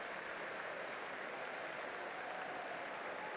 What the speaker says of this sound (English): The applause you can hear is for Julio Enciso, Tarek Lamptey and Sarmiento warming up